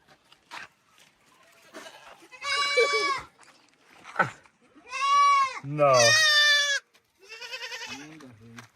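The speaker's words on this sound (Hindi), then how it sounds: "यहाँ पे बकरी का दूध निकाला जा रहा है।" Goats bleat repeatedly in loud, drawn-out cries while being milked in a Maasai village in Tanzania, with pauses between calls, brief knocks, and people talking nearby.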